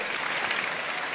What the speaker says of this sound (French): On peut les applaudir bien fort, hein.